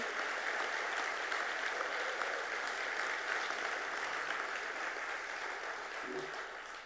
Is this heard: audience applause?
yes